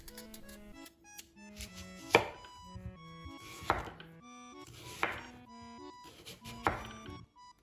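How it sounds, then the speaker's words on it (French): A knife slices peeled sweet potato into half-rounds on a board, four sharp chops spaced about a second and a half apart over soft background music. "J'épluche ma patate douce et la coupe en demi-rondelles"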